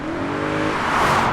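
A 4.2-liter V8 in an Audi RS5 revs steadily from inside the cabin, a continuous loud engine drone with rising harmonic tones, no talking.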